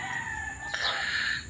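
A wild junglefowl (labuyo) rooster gives a single short, clear crow at close range, rising and then tailing off over a quiet background.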